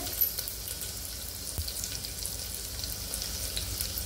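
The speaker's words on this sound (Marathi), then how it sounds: "आणि त्यानंतर जे स्वच्छ धुवून घेतलेलं मटण आहे ते घालायचं। चांगलं असं परतून घ्यायचं आपल्याला।" Washed mutton frying in a hot pan with crushed ginger, garlic and bay leaves for biryani, a quiet steady sizzle with light crackle and a soft clink from stirring.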